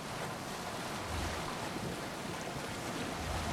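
Sea waves wash continuously beneath a boat in Assassin's Creed Odyssey, a broad, steady surf hiss mixed with wind, faint and even throughout, with no voices.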